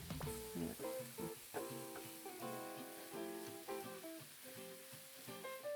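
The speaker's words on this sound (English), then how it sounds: "we're gonna chuck our spinach in just to soften that" Spinach wilts in a hot frying pan, giving a steady sizzle with intermittent stirring clatter and tonal scraping, close and fairly quiet.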